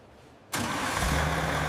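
A restored heavy truck engine cranks and catches abruptly, then settles into a loud, steady rumbling idle close by.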